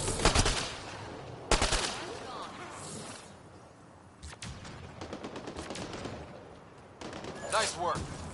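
Rifle fire from a DMR in the sci-fi shooter Mass Effect Andromeda: sharp bursts of shots at the start and around the middle, then scattered reports later, with voices talking in between.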